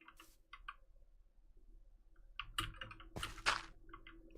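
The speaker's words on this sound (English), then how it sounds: "I like a clicky keyboard." A cheap, clicky computer keyboard is typed on close by in short irregular bursts of sharp clicks, which get denser and louder toward the end, in a quiet room.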